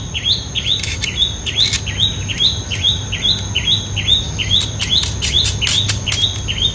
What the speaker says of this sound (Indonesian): Nah itu burungnya ada di pohon alpukat sana itu. Keras banget ya.